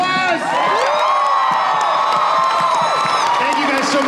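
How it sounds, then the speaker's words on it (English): A convention panel audience at Wizard World Philadelphia cheers, whoops and applauds loudly, with shrill shouts and screams over sustained clapping from a large crowd. "How about another round of applause?"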